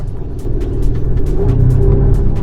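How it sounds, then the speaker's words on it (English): A Volvo S60 Recharge engine revs up and builds into a steady, loud low rumble as it accelerates, with no voices. "Oh my goodness, this car can really motor."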